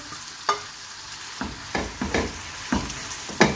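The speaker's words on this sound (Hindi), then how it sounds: "हम इसमें अपने जो प्याज हमने गोल्डन किए हुए थे वो डालेंगे" Fried golden onions going into a pan of sizzling garlic and ginger for a prawn biryani, with a steady frying hiss and several sharp stirring scrapes spaced through the clip, close and fairly loud, no talking.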